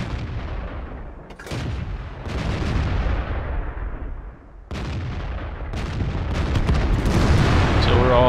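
Repeated heavy tank cannon shots and explosions from World of Tanks battle, booming in clustered bursts over continuous rumbling battle noise, with a voice talking over the gunfire.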